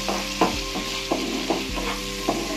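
Garlic butter sweet corn with spicy paste sizzles steadily in a pan while a spoon stirs, scraping and knocking against the metal in several distinct strokes.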